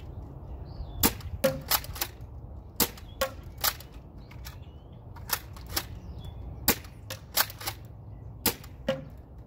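A Nerf blaster fitted with a red dot optic fires darts in a steady series of about fifteen sharp, close pops, spaced irregularly over a faint background hiss, with no talking.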